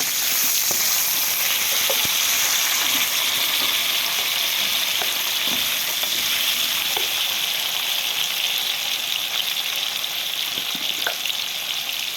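A steady, loud sizzle comes from a pan where local duck fries with potatoes and carrots, with occasional soft pops and stirring sounds under the continuous hiss.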